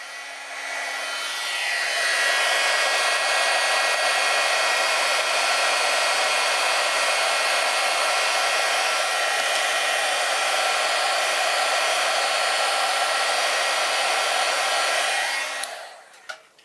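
A heat tool blows steadily for about fifteen seconds, melting embossing powder in a paper-crafting project, its loud whooshing whine starting and cutting off abruptly with no talking.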